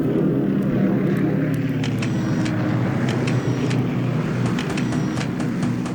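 Engines of bomber aircraft in a War in the Pacific strategy game, a steady loud propeller drone that continues without a break, with faint higher clicks over it and no talking.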